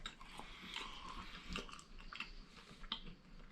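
Close, quiet chewing of homemade turkey jerky made from leftover Christmas turkey in a food dehydrator, with soft repeated bites and squishy mastication sounds and no talking.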